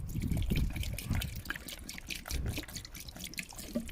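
Water gurgling and splashing as it is flushed out of the cooling system of a Toyota MR2 after a radiator change, uneven close-up trickles and spurts with no talk.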